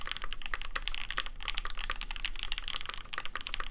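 Typing on a Foundation Gamma TKL mechanical keyboard: a rapid, steady stream of close, crisp key clacks with no pauses, loud and alone without any voices.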